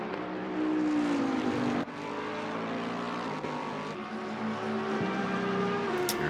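GT race cars, a Tech 1 Lexus among them, race around the Kyalami Grand Prix circuit, their engines wailing close by as revs rise and fall through the gears.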